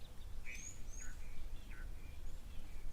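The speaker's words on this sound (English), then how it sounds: "We can hear the little blue waxbills and chin-spot batis." Small birds call at a waterhole, blue waxbills and chin-spot batis among them: several short, thin chirps and whistled notes scattered through, fairly distant, over a low steady outdoor rumble with no talking.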